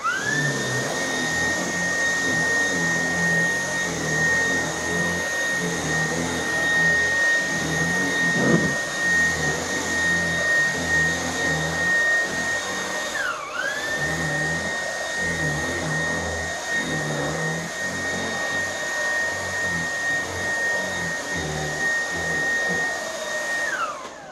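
A Dreametech T10 cordless vacuum cleaner whines steadily up close while cleaning a couch; around the midpoint its motor pitch dips briefly as it bogs down, then recovers and keeps running.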